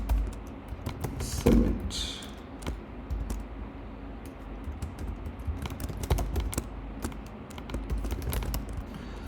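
HTML code typed on a computer keyboard, a steady run of close, quiet key clicks with a few louder taps and pauses, no voices.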